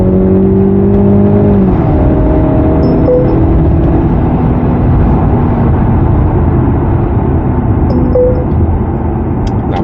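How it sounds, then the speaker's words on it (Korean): A Mercedes-Benz C300 AMG Line engine revs hard under full-throttle acceleration, a loud, steady drone with rising harmonic tones and cabin road noise, continuous throughout with no talking. "풀악셀."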